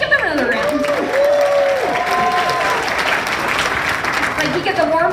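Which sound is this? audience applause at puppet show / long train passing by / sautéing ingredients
audience applause at puppet show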